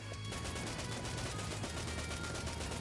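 Light machine gun in a twin-stick shooter game firing a sustained rapid burst of shots, dense and steady for the whole stretch with no pauses or voices.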